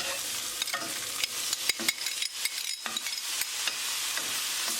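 Tomatoes added to a hot tadka with green chili, sizzling steadily in the pan while a utensil stirs with irregular scraping clicks and knocks over the continuous frying hiss.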